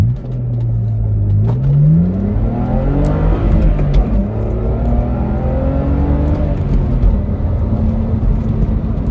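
A BMW E85 Z4 with the N52 engine accelerates hard in sport mode, its loud engine note climbing steadily through the gears with a shift near the start, close and continuous with no talk.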